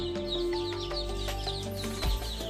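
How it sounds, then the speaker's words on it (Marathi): A farmyard hen with her chicks: a low, steady clucking with soft, frequent high peeping from the chicks around her, heard nearby, plus a brief low thump near the end. "एकदम प्रॉपरपणे कोंबडी त्या पंखाखाली घेते होती, सर्व जोपासना करते पिल्लांची"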